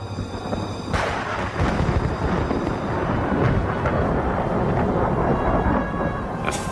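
Thunder from a fierce storm cracks near at the start, then rolls on in loud, continuous rumbling with a rain-like hiss underneath.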